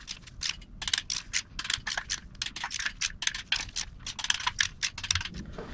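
A ratchet wrench clicking rapidly in repeated bursts while tightening bolts on a BMW M52 engine, crisp close metallic ticks in an uneven rhythm with no talking.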